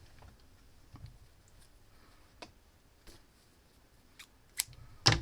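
Scissors snip through crochet yarn while finishing a rasta cap, a few soft, sharp clicks spread across a quiet room, with the clearest snips near the end.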